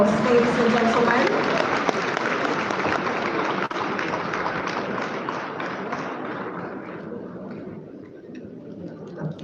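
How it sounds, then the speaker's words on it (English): Sustained round of applause from an audience at a Ghana UK diaspora meeting, dense clapping filling the room and slowly thinning out toward the end, with faint voices underneath. "I think that deserves a round of applause, ladies and gentlemen"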